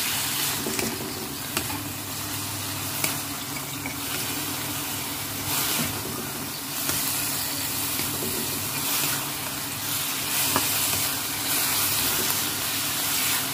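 Onions sauté in soy sauce in a hot pan, giving a loud, steady, hissing sizzle close by with a few faint knocks.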